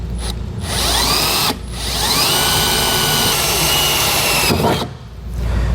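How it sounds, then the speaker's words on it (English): A power drill with a 3/8 bit enlarges holes while a wiring harness is installed on a 2022 Ford F-250, whining loudly in three long runs with brief pauses between them. "I'm going to go back with my 3/8 drill bit, and we're going to just enlarge these holes"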